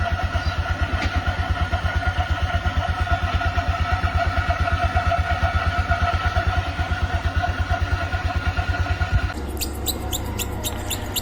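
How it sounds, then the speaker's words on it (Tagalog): A scooter's CVT with a wet belt and front pulley (drive face) gives off a rapid, rhythmic chattering squeak over a close-up engine idle, then shifts to sharper high ticking near the end; no talking. "pag ito na pong basang belt at nabasa na rin po itong ating drive face or front pulley, ayan, ganyan po ang magiging tunog niya"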